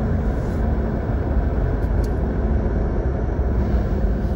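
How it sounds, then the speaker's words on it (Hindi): A Mahindra Scorpio Classic fitted with ARC suspension drives in fifth gear at around 100 km/h, giving a steady, loud, broadband engine and road roar that holds without breaks. "देखो मैंने पिकअप लिया, पांचवें गियर हूं और गाड़ी 100 पे चढ़ भी गई।"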